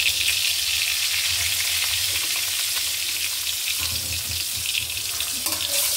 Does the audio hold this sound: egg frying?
yes